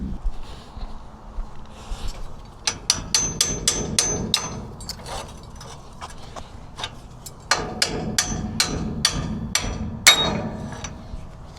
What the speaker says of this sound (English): All right, where's my hammer? Need my hammer.